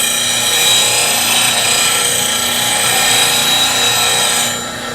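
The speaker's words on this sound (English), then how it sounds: "So this is me sharpening one of my gouges." Bench grinder sharpening a wood-turning bowl gouge, a steady bright grinding hiss held loud and continuous for several seconds before easing off near the end, no voices.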